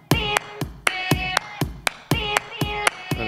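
Sharp, crisp clap hits repeat in a steady rhythmic pattern, about twice per second, layered over a tonal electronic backing.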